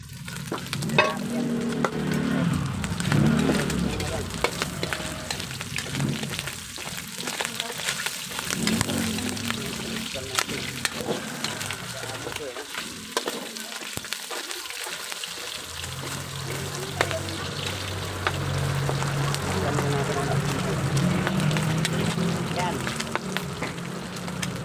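Garlic and onion sauté in a pan for a pork and alugbati dish, giving a steady, close sizzle with stirring scrapes. The frying briefly drops low in the middle, then returns at full strength.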